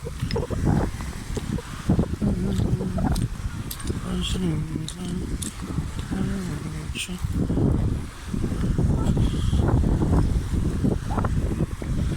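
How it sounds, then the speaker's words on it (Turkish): Steady wind buffeting the microphone outdoors, roaring constantly while people talk over it. "Biraz rüzgar da çıktı sanki."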